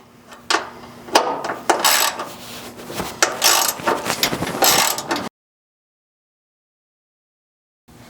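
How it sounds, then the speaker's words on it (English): A ratchet wrench tightening bolts on a metal stand for a HappyJapan 7- or 12-needle embroidery machine, several bursts of rapid close clicking with pauses, then abrupt silence, no talk. "Make sure that all bolts are firmly torqued down to maximize the strength and stability of your stand."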